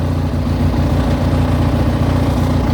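A restored scrap-yard riding lawnmower engine chugs steadily and loudly up close, a low, even mechanical drone running without a break as the mower drives.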